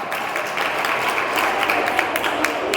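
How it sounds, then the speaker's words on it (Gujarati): Steady, thunderous applause from a school quiz competition audience fills the space, dense continuous clapping with no pauses, loud and sustained throughout. "ખૂબ તાળીઓના ગડગડાટ."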